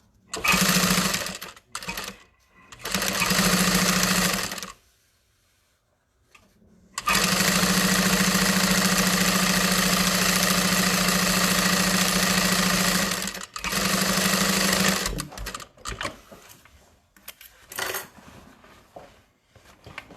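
A sewing machine stitches an Everyday Tote bag at a three-stitch length, running in loud close bursts of steady whirring, with pauses between runs and a few short stops and clicks near the end.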